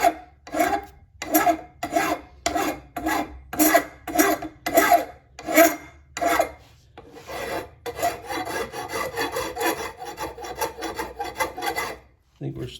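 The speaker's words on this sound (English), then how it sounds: "We'll file this some until we start hearing it hitting metal." A rough file rasps across the barrels of a side-by-side shotgun, first in about ten distinct, evenly spaced strokes and then in a faster, nearly continuous scraping. Loud and close, with no talking.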